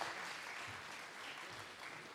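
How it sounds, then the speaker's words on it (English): Conference audience applauding after a panel at a blockchain event in Africa, a steady, fairly faint wash of clapping that fills the whole moment without talk. "So let's give them another round of applause."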